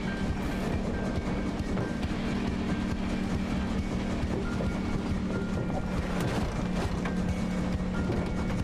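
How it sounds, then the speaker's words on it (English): A speeding train from the Sly Cooper: Thieves in Time video game rumbles and rattles steadily on its tracks toward a broken bridge, a loud continuous mechanical roar with faint clacking throughout. "No, Fly, the train! It's headed for a broken bridge!"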